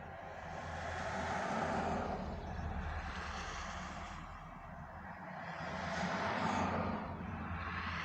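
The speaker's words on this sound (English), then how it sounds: "Okay, here comes the car." A car approaches and passes on a residential road, a faint swelling rumble that rises, dips and rises again at a distance, with no one talking.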